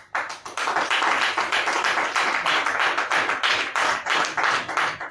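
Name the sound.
applause from the audience at a talk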